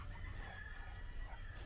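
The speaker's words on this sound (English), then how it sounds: "Got a nice little rooster." A rooster crows faintly in the distance, a drawn-out call over a soft, noisy background.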